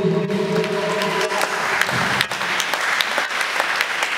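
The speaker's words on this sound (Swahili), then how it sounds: "Mpe Yesu makofi." A church congregation applauding during worship, a dense, continuous clatter of many hands clapping up close, with a few faint voices mixed in.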